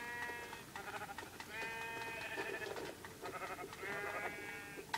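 Several sheep bleat in Minecraft, repeated wavering calls from one or two animals, moderately close over a faint background.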